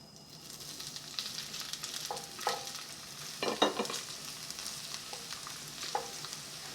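Noodles sizzling in vegetable oil in a 10-inch cast iron frying pan for crispy Hong Kong style chow mein, a quiet steady hiss with a few sharper crackles and pops.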